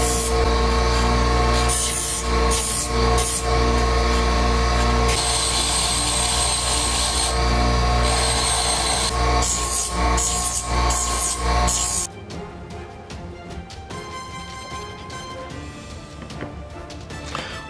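A power grinder cuts through a steel kitchen knife blade, a loud continuous harsh whine and rasp with bursts of change. It stops abruptly near the end, leaving a quieter room hum.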